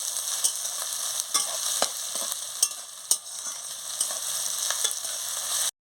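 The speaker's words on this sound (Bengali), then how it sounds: "দিয়ে ভালো করে মশলাটাকে ভেজে নিচ্ছি" Spice masala fries in a pan for a mutton curry. The steady sizzle is broken by repeated spoon scrapes and knocks as it is stirred close up, with no talk.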